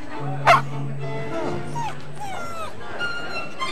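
A dog in a Caesar dog food commercial barks and yips with whimpering sounds, heard close up against party chatter and background voices.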